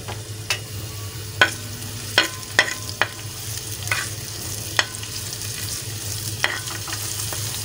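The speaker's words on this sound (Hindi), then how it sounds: "अब मैंने प्याज भी डाल दी इसके अंदर प्याज को हल्का सा सोते करना है" Onions softening with garlic in a pan, a low steady sizzle under scattered spatula scrapes and clicks, some sharp and close, others softer, spread across the stretch.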